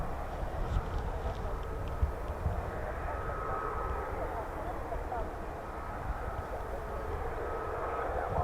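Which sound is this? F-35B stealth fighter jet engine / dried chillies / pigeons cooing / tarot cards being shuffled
F-35B stealth fighter jet engine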